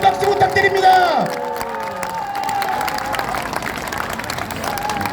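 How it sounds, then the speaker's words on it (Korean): Crowd applause and cheering at an Icheon campaign rally for candidate Kim Moon-soo, with a burst of noisy clapping and shouts that settles into a steady, dense roar of many hands. "동의하신다면 다시 한번 박수 부탁드립니다"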